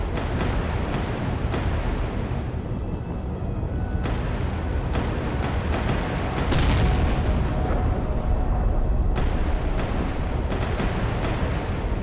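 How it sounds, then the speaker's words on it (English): A ship explosion in the naval game Sea Power fills the clip with a loud, continuous roaring rumble and heavy booming swells. "A catastrophic explosion rocks the ship."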